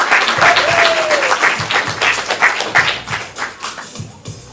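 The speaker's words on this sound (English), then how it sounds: "let's go ahead and give them a round of applause" Audience applause at a ComedySportz improv comedy show, a dense, steady patter of many hands clapping that thins out toward the end, with a brief whistle-like tone early on.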